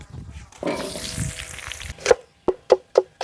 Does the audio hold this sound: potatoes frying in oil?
yes